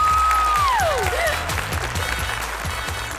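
A studio audience at a Ukrainian TV comedy show claps and cheers for a singer being introduced, a steady loud wash of applause throughout, with a descending tonal swoop near the start.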